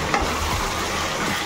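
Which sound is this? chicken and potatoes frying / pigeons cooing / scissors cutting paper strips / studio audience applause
chicken and potatoes frying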